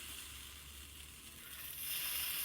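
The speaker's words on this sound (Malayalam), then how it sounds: "അതിലേക്ക് ഒരു 2 തവി നമ്മളെ ബാറ്റർ ഒഴിച്ചു കൊടുക്കാം" Batter poured into a hot pan hisses in a soft, continuous sizzle that swells slightly toward the end.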